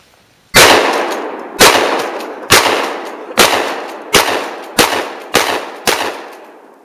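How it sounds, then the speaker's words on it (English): A 12-gauge shotgun is fired at a tree outdoors: eight loud, sharp blasts spaced roughly a second apart, each trailing off in a short ringing decay. "Put it out of its misery with a shotgun."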